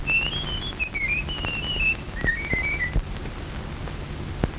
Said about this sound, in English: No two men could ever whistle exactly like that.